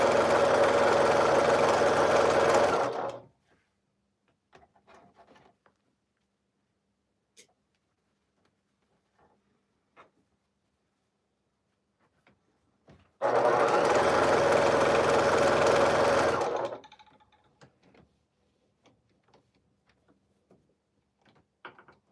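Sewing machine stitching a quilt, two bursts of steady motor whir of about three seconds each, separated by a long quiet gap with faint clicks and handling sounds.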